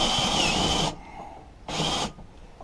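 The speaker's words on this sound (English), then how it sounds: "I've got a drill here on the flywheel, which I'm going to turn it with that" A handheld drill spins the flywheel of a Honda Izy 21-inch lawnmower that has sat unused for two years and will not start. Two loud whirring bursts sound close by, separated by a short quiet gap.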